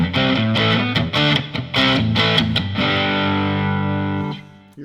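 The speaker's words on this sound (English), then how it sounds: "Here's the rhythm sound." An electric guitar through a JOYO DC-15S amp on its rhythm setting, strumming driven, effect-laden chords in a choppy pattern before letting a final chord ring out, loud and close with no speech.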